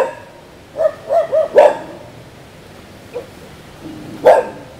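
A dog near a graveyard at night barks in a quick run of four sharp yaps, then two more isolated barks after a pause, fairly close and loud over a noisy background.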